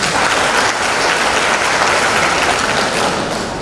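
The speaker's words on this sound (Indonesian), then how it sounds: "Tepuk tangan dulu dong." Audience applauding at a university Nuzulul Quran commemoration gathering, steady loud dense clapping filling the whole stretch without talk.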